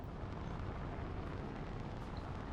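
Weapon barrage impacts in the mech combat game Battletech with the RogueTech mod rumble as one continuous, dense explosive roar, loud and unbroken throughout.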